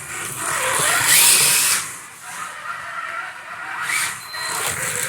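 A slot car races around a track and fishtails through the corners, its whirring motor and tyre scrub rising and falling in quick hissing, skidding sweeps.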